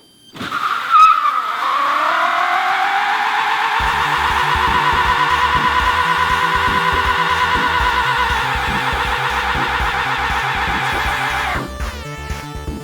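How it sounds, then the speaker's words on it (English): A small electric car does a burnout, its tires squealing loudly and steadily for about eight seconds over a low rhythmic drive whine, with no talk. "Legit electric burnout."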